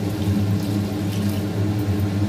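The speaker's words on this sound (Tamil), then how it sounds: "இப்போ தண்ணி ஊற்றிக்கலாம்." Water is poured into a pan of drumstick poricha kuzhambu curry, a steady close splashing flow over a low constant hum, without speech.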